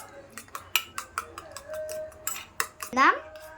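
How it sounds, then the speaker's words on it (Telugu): Eggs with masala beaten briskly for an omelette, a fork or spoon rapidly clinking against the bowl in quick repeated taps, close and fairly loud, with a voice speaking briefly over it. "బాగా బీట్ చేసుకోవాలి ప్యాన్ కాలే వరకు"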